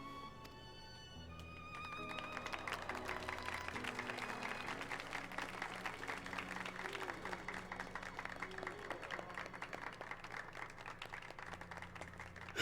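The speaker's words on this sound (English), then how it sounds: "clapping half-heartedly" Crowd applause in Final Fantasy XIV rises after a quiet start and continues as steady, half-hearted clapping over soft background music.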